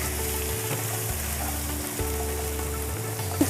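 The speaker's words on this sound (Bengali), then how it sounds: "এটাকে একটু ভাজা ভাজা করব।" Ginger and garlic paste frying in a pan for a Bengali raw jackfruit curry, a steady close sizzle with low kitchen hum and occasional stirring clicks.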